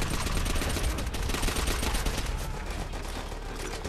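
Rapid gunfire in the World War II shooter game Call of Duty: World at War, with dense overlapping bursts of rifle and machine-gun shots sustained throughout at loud, close range.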